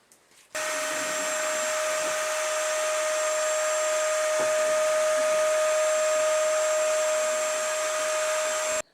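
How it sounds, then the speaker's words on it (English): A vacuum cleaner running in a hallway of an old Japanese house being restored, switching on abruptly and holding a loud, steady whine with a high pitched tone for about eight seconds before cutting off. "going to vacuum this for me"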